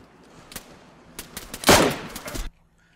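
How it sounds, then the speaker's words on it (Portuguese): Gunfire in DayZ Standalone: a few scattered sharp shots, then a loud burst of rapid automatic fire that stops abruptly, followed by near silence. "Tinha dois tiros"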